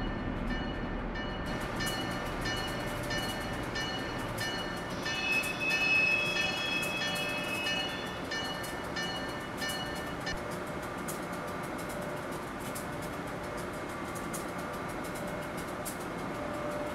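Washington metro train at a station platform, a steady loud rumble and hiss of rail cars with a brief high tonal whine partway through, continuous and close throughout.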